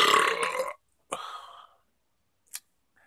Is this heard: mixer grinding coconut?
no